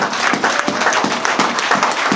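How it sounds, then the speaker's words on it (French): A church congregation at an Assemblies of God anniversary service claps in a brief, rhythmic burst, with regular beats close by and loud. "Donnez-lui les acclamations."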